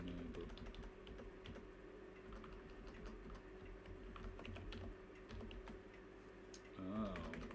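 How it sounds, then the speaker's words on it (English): Fast typing on a computer keyboard, a steady rapid patter of quiet key clicks over a low hum, continuing for several seconds. "Typing, fast typing"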